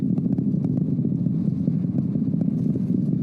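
The NASA Artemis II rocket engines roar steadily during launch, a continuous low rumbling crackle that stays dense and unbroken throughout with no voices.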